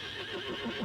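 A young bay Arabian horse gives a short, faint whinny, heard alone and at a distance in a brief moment.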